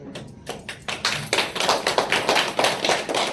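An audience claps, a fast irregular patter of many hands starting sparse and quickly filling in to steady applause, close and loud with no voices.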